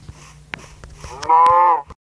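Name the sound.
cow mooing in a video game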